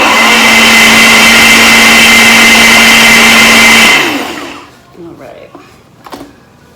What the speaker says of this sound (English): And we're gonna blend it.